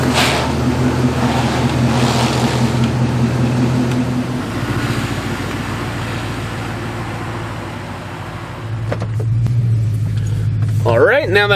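A 2003 Lincoln Town Car's engine rumbles steadily with a low drone that briefly fades then returns, followed by a short higher whine near the end.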